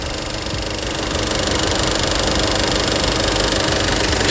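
A 2.5-liter 16-valve four-cylinder engine in a 2006 Nissan Frontier XE King Cab idles steadily with a broad, even hum and a faint knocking rhythm, close and continuous, with no talk over it.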